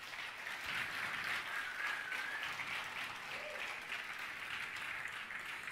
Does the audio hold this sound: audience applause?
yes